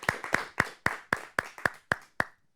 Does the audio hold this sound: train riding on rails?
no